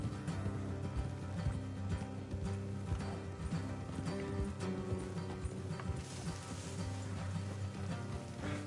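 Horses' hooves clip-clop steadily in a video game, a quiet rhythmic trotting over low background tones and a faint music bed, with no clear voices.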